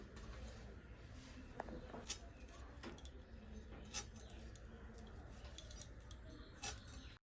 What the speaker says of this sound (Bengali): এবার আমি কেটে নিই সজনের ডাঁটাগুলো।